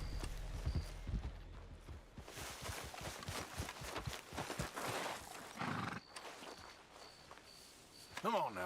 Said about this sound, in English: Meu cavalo.